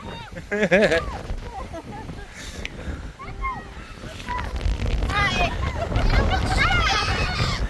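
Wind buffets the microphone with low rumbling gusts at a beach, while people shout and talk and water washes nearby.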